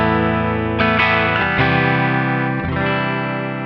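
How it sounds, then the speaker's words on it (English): Single-coil electric guitar through an Electro Harmonix Big Muff Pi fuzz with no noise gate: thick, sustained distorted chords, struck several times in quick succession and ringing on with a noisy tail. "I've got Electro Harmonix Big Muff Pi because that's a noisy pedal as well"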